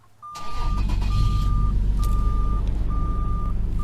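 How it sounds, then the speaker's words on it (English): A 2019 Toyota Tacoma pickup cold-starts with a quick crank and catches into a loud, steady low idle, while an evenly spaced warning beep chimes repeatedly over the engine. "Let's give it a cold start."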